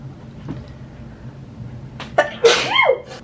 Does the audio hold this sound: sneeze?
yes